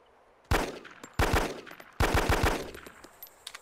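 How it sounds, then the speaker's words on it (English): M9 Beretta pistol fire at a zombie in DayZ Epoch: three sharp, loud bursts of rapid shots, the last a longer string of four or five, each decaying quickly into quiet between volleys. "Are you the one shooting? Yeah, I'm shooting that zombie."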